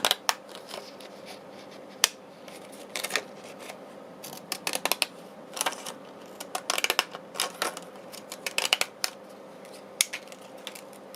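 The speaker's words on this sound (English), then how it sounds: "cut round it with my fancy edge scissors" Fancy-edge craft scissors snip through paper for a ballet ring-bound journal, a run of sharp, close crisp cuts in irregular bursts with short pauses between, nearby and moderately loud with no talking.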